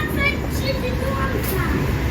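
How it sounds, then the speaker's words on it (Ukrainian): A city tram idles and moves off at a stop on a grey day, a steady low rumble and mechanical hum with faint higher squeals, close by, while people speak nearby. "Ми ждемо трамвай. Це зараз четвертий трамвай."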